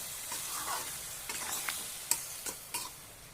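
Jackfruit and prawns being sautéed with spices in a pan give a quiet, steady sizzle, broken by a few short scraping stirs that come and go.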